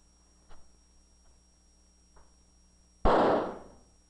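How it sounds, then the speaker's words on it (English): A single firecracker bursts with a sharp, loud crack that decays over half a second, preceded by a few faint ticks in a quiet room. "When that firecracker went off, it made quite a fuss, didn't it?"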